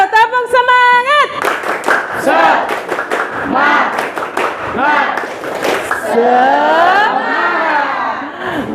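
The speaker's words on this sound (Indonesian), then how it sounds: "Ayo biasa dong kita tepuk semangat dulu ya." Students in an Indonesian classroom perform a rhythmic spirit-clap routine, sharp group claps in quick patterns mixed with children's sung and chanted voices, fairly loud and close throughout.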